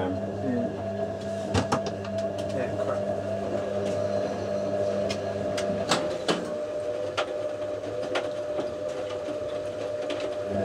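A washing machine hums steadily at a demonstration gathering of vintage washers, a constant mechanical drone with occasional clicks and knocks running throughout alongside faint background talk.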